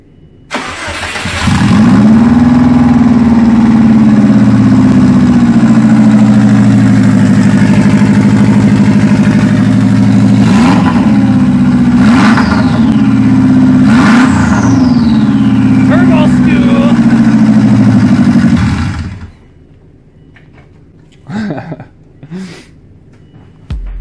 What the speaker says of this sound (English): That with the straight pipe, it wasn't bad at all.